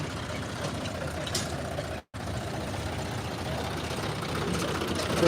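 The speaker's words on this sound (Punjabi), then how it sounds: "ਟਰੈਕਟਰ ਬਹੁਤ ਟਰੈਕਟਰ ਆਈ ਜਾਂਦੇ ਮੰਡੀ ਦੇ ਵਿੱਚ" Tractors running in a crowded tractor market in Barnala, a steady dense engine rumble and idle that continues throughout with a brief dropout partway through.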